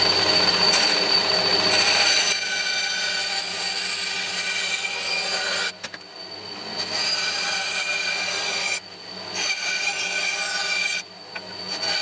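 A steel bushcraft knife blank is rough cut out along its outline, a continuous harsh rasping cut running loud and close with a few brief pauses.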